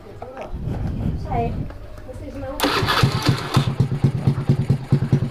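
Honda Beat scooter fitted with a PE 24 carburetor, starting up after faint talk, then loud close engine running with a rapid pulsing rhythm of repeated revs.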